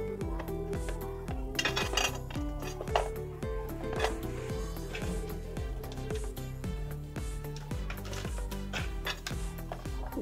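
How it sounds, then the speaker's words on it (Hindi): A knife chopping a block of chocolate for brownies on a board, steady repeated knocks of the blade close up in an even rhythm, with faint clinks between strokes. "अब हम चॉकलेट काटेंगे।"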